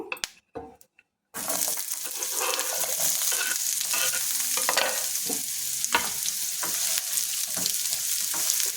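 Onions frying in a little oil in a pan, with a steady close sizzle and stirring throughout after a brief quiet start, no voices.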